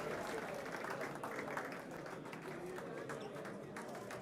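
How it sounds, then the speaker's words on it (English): Audience applause at an awards ceremony, a fairly quiet, even patter of clapping from a crowd that carries on steadily with faint background murmur. "Round of applause for our Homegrown of the Year."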